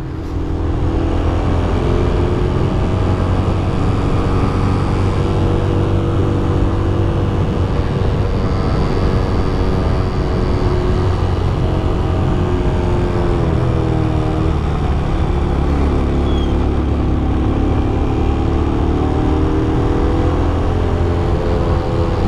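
A motorcycle rides a steep mountain road near Lawang and Matur toward Malalak in West Sumatra. The engine keeps up a loud, steady whir with gentle rises in pitch, and wind rush runs under it throughout.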